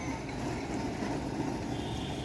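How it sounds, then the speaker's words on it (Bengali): A Kolkata tram from Gariahat rolls into the depot, a steady low rumble of wheels and motor, moderately loud and continuous, with no clear talk. "গড়িয়াহাটের ট্রাম ঢুকছে"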